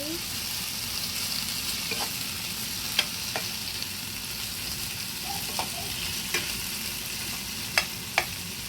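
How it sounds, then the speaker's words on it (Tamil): Steady oily sizzling of tomatoes frying in a pan for kadai paneer, with occasional sharp clicks and scrapes from stirring, close and continuous. "இதுக்குள்ள இப்போ இந்த தக்காளியையும் போட்டு தாளிக்கணும்."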